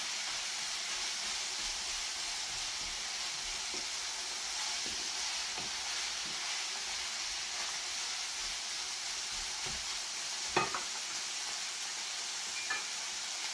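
Minced meat frying in a pan on an electric stove gives a faint, steady hiss and sizzle, broken by a few soft clicks and taps of a utensil against the pan.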